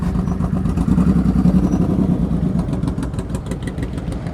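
Motorcycle engine running at low, steady revs during slow-speed riding skills practice in Illinois, a continuous mid-pitched putter with clattering texture, close and fairly loud throughout with no talk.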